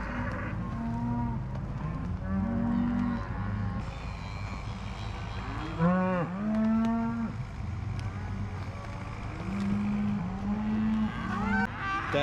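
A herd of cattle moos repeatedly while feed is dropped off for them on a farm. There are several close, drawn-out calls, some overlapping, over a low rumbling engine in the background.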